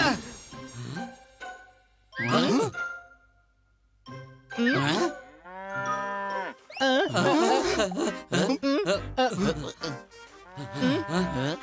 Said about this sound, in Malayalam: എടാ, ഇത് പോത്ത് തന്നെയാ